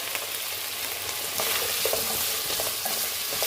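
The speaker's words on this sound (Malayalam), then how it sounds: "ഉരുളക്കിഴങ്ങും കൂടെ ഇട്ട് സവാള ഉരുളക്കിഴങ്ങ് ഇട്ടിട്ടുണ്ട് നല്ലപോലെ ഇളക്കുക" Sliced onion and potato frying in a pan for egg curry, stirred steadily, with a continuous close sizzle and repeated scraping strokes throughout, no talking.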